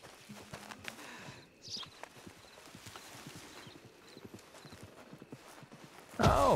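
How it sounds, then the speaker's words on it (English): In a video game, hooves clip-clop steadily at a walking pace, drawing closer, then a horse lets out a loud whinny at the end. "sounds like the horse is finally going to show up."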